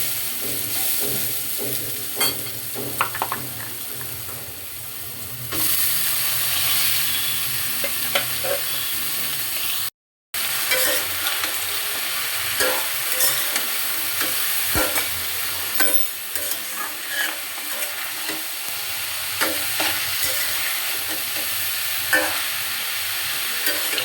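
Cabbage hits a pan of cumin seeds and bay leaf fried in oil, sizzling steadily with scraping stirs and clinks of a spatula, close and continuous with a brief dropout midway.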